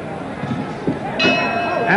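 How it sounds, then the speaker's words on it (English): A boxing ring bell clangs to end a round in the Muhammad Ali vs Jimmy Ellis fight, a bright sustained ring rising over crowd noise and a commentator's voice. "And the bell."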